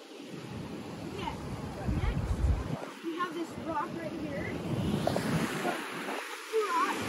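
Ocean surf washing in below a big viewing deck at a sea cave on Double Island, a steady broadband roar of waves with wind buffeting the microphone and voices speaking briefly over it.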